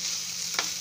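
Peanuts and vermicelli frying in a pan, a brief, steady close sizzle with a single quick scrape of a spoon near the end.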